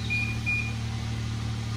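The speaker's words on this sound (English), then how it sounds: "Oh shit, it's a timer." Electronic timer beeping in a garage, two short high tones in quick succession over a steady low hum, with no one talking.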